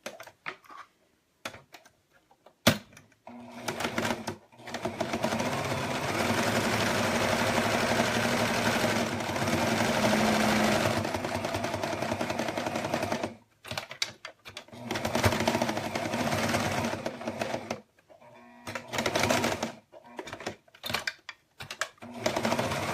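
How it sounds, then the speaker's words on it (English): A sewing machine top stitches around a crossbody messenger bag in sustained runs of rapid, steady mechanical whirring, broken by brief pauses and a few short bursts near the end. "I'm just going to top stitch really quick around."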